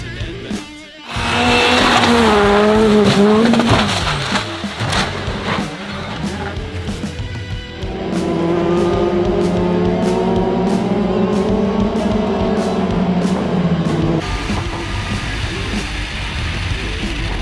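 Race cars roaring away at the start of a race, engines screaming and sweeping up in pitch as they pass close, then a second pack of engines droning together, with tyre noise and a voice talking over it.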